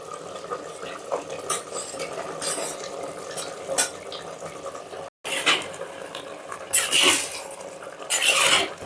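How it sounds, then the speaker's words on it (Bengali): Fried potatoes tipped into chicken cooking in a clay pot, then stirred: scraping spoon strokes and clinks against the pot over a steady sizzle, with a brief dropout midway and louder stirring bursts toward the end. "তো ভাজা আলুগুলো মাংসের মধ্যে দিয়ে দিচ্ছি"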